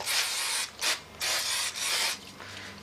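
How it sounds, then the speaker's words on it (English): Disc brake cleaner hisses out of an aerosol can onto a mountain bike disc rotor in a workshop, several short close bursts separated by brief pauses. "we're going to take some disc brake cleaner"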